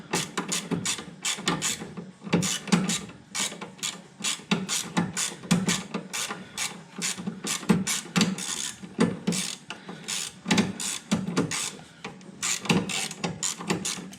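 A socket wrench on a wobble extension ratchets against a bolt on a John Deere 1025R compact tractor, a close, steady run of rapid clicking strokes repeating in bursts without pause.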